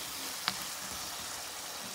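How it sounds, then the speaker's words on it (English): Roasted ground cumin being stirred into a frying curry gives a continuous close sizzle, with two brief sharp scrapes of the spoon against the pot. "We're gonna go in with our roasted ground geera or cumin and mix."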